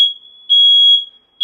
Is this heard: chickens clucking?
no